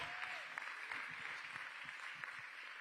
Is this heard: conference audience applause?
yes